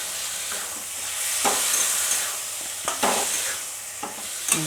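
Jackfruit curry sizzles and fries in a pan as spice water goes in, a continuous hiss broken by several distinct scraping stirs and clinks spread through the clip.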